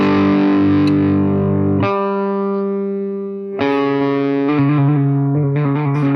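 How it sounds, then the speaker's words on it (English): Heavy distorted electric guitar chords built on a tritone ring out slowly, each held long before the next, building into a dark, plodding riff; no voices. "when you use this tritone with this slow funeral death march kind of rhythm"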